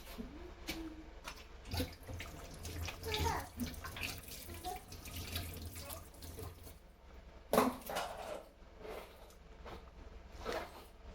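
Tap water runs and splashes in uneven bursts as fresh coriander leaves are washed in a home kitchen while country chicken curry is prepared, with a louder gush near the middle.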